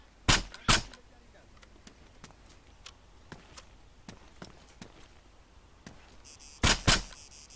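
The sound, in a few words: gunshots from rifle in video game Arma 3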